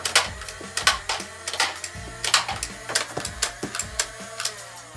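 A Big Power Electric Model 501 toy blaster fires darts in quick succession, each shot a sharp mechanical clack over a steady electric motor whir, the shots coming close and loud at an irregular, rapid pace.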